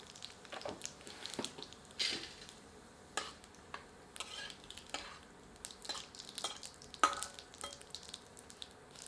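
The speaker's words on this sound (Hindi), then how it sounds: "गर्म तेल में एक तेजपत्ता सम्मिलित करते हैं, एक टुकड़ा दालचीनी और आधा छोटा चम्मच जीरा सम्मिलित कर कुछ क्षण भून लेते हैं।" Bay leaf, a piece of cinnamon and cumin seeds frying in hot mustard oil, giving a quiet crackling sizzle with irregular soft pops and occasional stirring scrapes, fairly faint and close.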